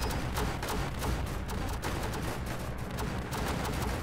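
Sustained rapid gunfire from a machine gunner unit in Northend Tower Defense, a dense, continuous loud burst of shots with battle noise throughout and no pauses.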